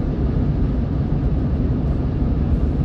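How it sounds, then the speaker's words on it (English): A helicopter carrying a load flies past above a rural road, heard as a loud, steady broadband roar with a dense low rumble that holds constant throughout, with no talk. "We got us a helicopter carrying something."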